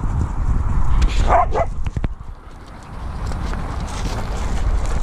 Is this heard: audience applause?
no